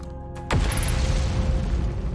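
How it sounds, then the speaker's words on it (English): In the video game Outer Wilds, a sudden deep boom erupts after a quiet moment, followed by a sustained low rumbling roar of meteor explosions from the volcanic moon, with a faint high whine. "we're getting the usual explosions of the meteors from the volcanic moon"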